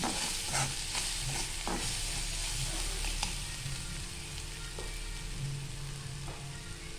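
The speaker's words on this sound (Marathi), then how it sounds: "आता ते आपण एकदा मिक्स करून घेऊया" Salted tempering being stirred in a pan, a continuous close sizzle with repeated scraping strokes of a spoon against the pan, steady and fairly loud.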